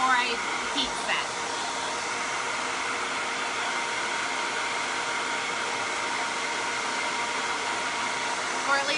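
A heat tool drying blue Chalk Couture ink blows a loud, steady, close whooshing roar, like a hair dryer, that runs unbroken for about nine seconds, with a few faint clicks near the start and no voices.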